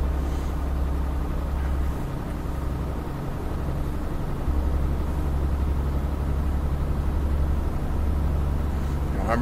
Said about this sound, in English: the Ivecos have new sounds recorded from the actual trucks